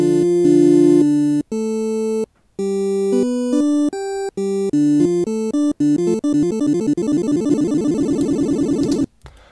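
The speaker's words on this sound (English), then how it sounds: "So this just determines how fast or slow it will arpeggiate." A synthesizer arpeggio from Logic Pro's arpeggiator plays broken chord notes, starting slow and sparse, then running faster and faster until the notes blur into a rapid stream before stopping.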